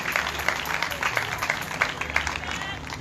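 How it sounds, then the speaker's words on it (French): Church congregation applauding during a worship service, dense sustained clapping with crowd noise throughout, fairly loud and steady, with voices mingled in. "Est-ce que vous voulez applaudir mon Dieu plus fort toujours?"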